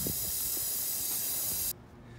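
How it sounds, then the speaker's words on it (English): Spray paint can hissing steadily as it lays a coat onto concrete, close and continuous before cutting off abruptly near the end, leaving faint room noise. "I like to wait about 2 minutes in between coats, and maybe I'm gonna give it 3 coats total."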